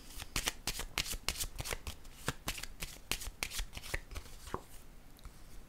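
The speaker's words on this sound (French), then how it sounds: "Là, je vais déposer une carte ici." Tarot cards being shuffled and handled, making a fast run of crisp riffling snaps and flicks up close.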